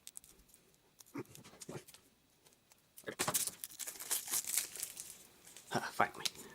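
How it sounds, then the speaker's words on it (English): Tight plastic shrink wrap crinkling and tearing as it is pulled off a Humblewood Campaign Setting D&D 5e box set, quiet handling at first, then louder sustained crackling and ripping bursts up close. "This shrink wrap is more tight on this one, it seems."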